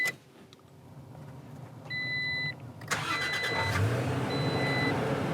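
Toyota Land Cruiser GRJ70 engine cranking and catching, then settling into a steady idle, heard close up inside the vehicle after a few electronic chimes, with no talking.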